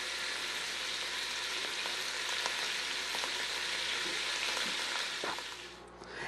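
Chuck roast pieces brown in a pot with a loud, steady close sizzle and crackle of frying fat, occasional pops, easing off at the end.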